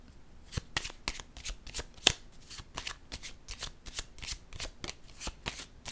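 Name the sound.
tarot cards being shuffled and laid down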